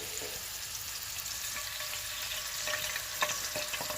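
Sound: frying oil sizzling

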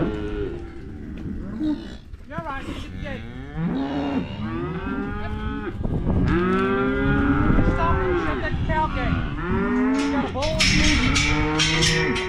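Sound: cattle, bulls and heifers, mooing

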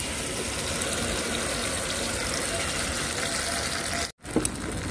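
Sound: water from washing spices poured into cooking pan

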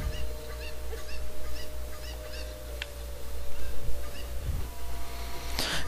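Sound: cucco chicken clucking in Zelda Ocarina of Time video game

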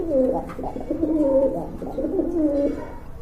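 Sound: pigeon cooing

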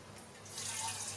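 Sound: water being poured into the pot

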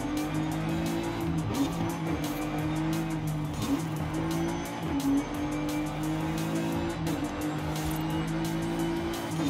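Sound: car drifting around corners in Forza Horizon 5 video game

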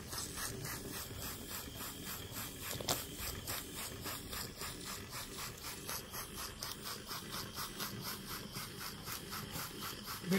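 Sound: model beam steam engine running, piston moving up and down

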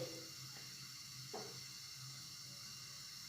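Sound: stirring milk batter heating in pan on gas stove

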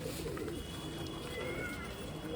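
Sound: pigeons cooing

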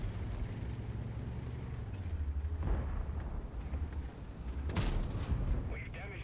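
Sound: tank cannon fire in tank video game

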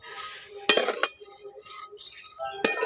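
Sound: frying vermicelli in pan, utensil clinking

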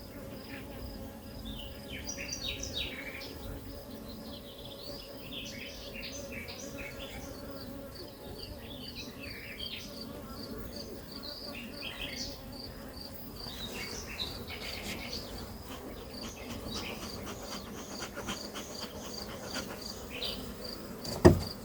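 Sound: honeybees buzzing at hive

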